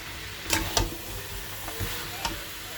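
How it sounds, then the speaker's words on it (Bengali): Fried potatoes being stirred into chicken in a pan, with a few distinct scraping clatters of the utensil against the pan over a low, steady sizzle. "এখন দিয়ে দেবো চিকেনের মধ্যে ভেজে রাখা আলুগুলো আলুটা দিয়ে একটু কষিয়ে গরম জল দেবো"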